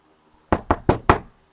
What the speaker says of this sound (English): She did knock, knock, knock